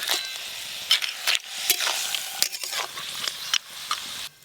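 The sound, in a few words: greens frying in oil with salt and turmeric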